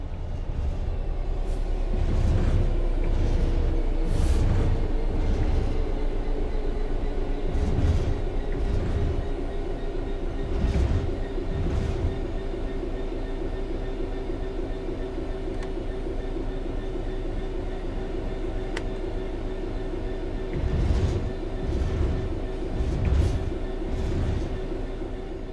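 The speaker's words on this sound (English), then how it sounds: "The train will then coast on level ground, and the train will only slow down very gradually." A train in Train Sim World 3 coasts on level ground with the throttle at zero, giving a steady rumbling rail drone with a sustained tonal hum and occasional clacking wheel bursts, continuous and fairly loud throughout.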